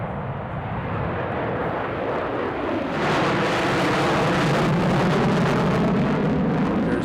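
B-1B Lancer bomber making a touch-and-go, a loud sustained broadband jet roar that swells after the first few seconds and holds steady, close and powerful with no voices.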